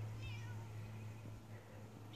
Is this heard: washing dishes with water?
no